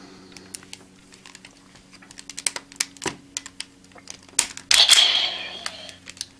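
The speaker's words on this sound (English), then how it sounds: "by clicking them together like so, you get the confirmation sound that they're combined into the Kentrospiker" Plastic FangShot toy parts click together in a series of sharp snaps, building to a burst of electronic confirmation sound as the pieces combine into the Kentrospiker; close and fairly loud.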